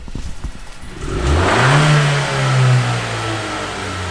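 A nearby Toyota Soarer engine with stock intake idles briefly, then revs up twice in a strong, rising-and-falling roar before settling back.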